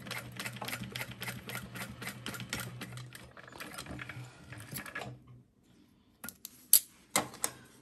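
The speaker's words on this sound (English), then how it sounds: "I'm gonna sew as close to that stabilizer as possible without sewing through my hardware, of course." A domestic sewing machine runs in a steady rapid stitching rhythm while sewing a wristlet close to the stabilizer, then stops, followed by a few sharp clicks and a brief spoken word.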